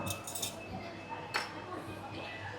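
A spoon clinking against dishes at an airport buffet, a few bright metallic clinks early on and one sharper clink midway, close, over a steady background hum with faint voices around.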